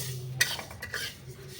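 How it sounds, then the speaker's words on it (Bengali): A utensil stirs mung dal as it dry-roasts in a pan, with a few faint scraping clinks at a soft level in an otherwise quiet kitchen. "প্রথমে আমি মুগের ডালটা শুকনো খোলায় হালকা করে ভেজে নেব"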